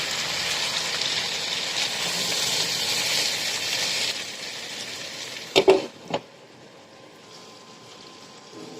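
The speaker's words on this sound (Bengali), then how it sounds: "এখন আস্তে আস্তে এটা ভাপে ভাজা করবো। ঢেকে দিচ্ছি, ঢেকে জালটা একদম কমে দিচ্ছি, একদম লো করে দেবো।" Pizza steam-frying in a covered pan over a very low flame gives a steady broadband hiss for about four seconds that then drops away, followed by two brief clunks like a lid being handled and a quieter fading sizzle.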